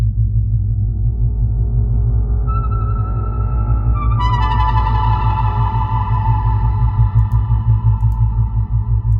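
An evolving FM synthesis patch from FM LAB for HALion 7 swells from a deep, loud bass drone, as brighter metallic overtones enter and shimmer with a wavering, chorused texture that grows over time.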